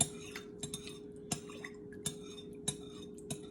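A utensil stirring coconut oil into an apple blueberry pie filling in a bowl, a faint series of light clinks and taps at irregular intervals over a quiet hum.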